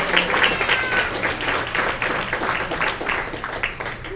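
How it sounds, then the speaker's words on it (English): Audience applause at an awards show, a dense, loud, sustained wash of many hands clapping that holds steady throughout. "let's just do one more clapping for all the awardees"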